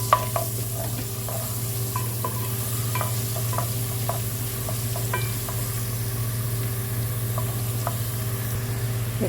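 Chicken pieces frying in leftover onion-fried oil with ginger garlic paste, a continuous loud sizzle broken by repeated scraping and stirring clicks of a spoon in the pan, with no talking.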